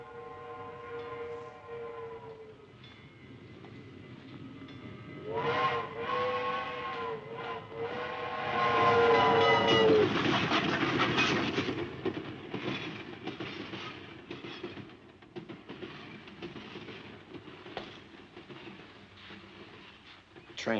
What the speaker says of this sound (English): Train muffled